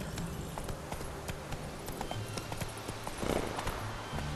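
Hoofbeats of a horse trotting in The Witcher 3 video game, a steady clip-clop rhythm at moderate level over a busy background of game ambience, without speech.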